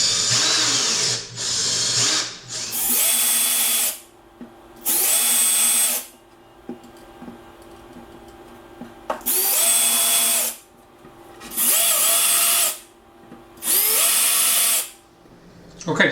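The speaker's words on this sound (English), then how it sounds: "I'm going to use a drill to just drill a few little holes here just to start the screws off" A power drill bores small pilot holes into IKEA particle board, running in several loud, close bursts of a few seconds each, separated by short pauses and a longer gap.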